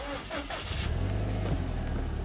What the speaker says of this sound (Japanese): さあ、エンジンをかけてみましょう。